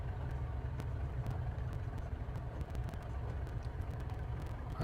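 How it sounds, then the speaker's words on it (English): Steady low idling drone of a Cessna 414 twin piston engine in a flight simulator, continuous and even, with faint clicks over the top and no talk. "The engine loses RPM if you leave the throttle in the idle position too long."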